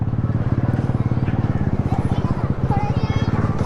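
Rapid, regular clip-clop of horse hooves on a busy street during Eid, with people talking over the rhythmic hoofbeats.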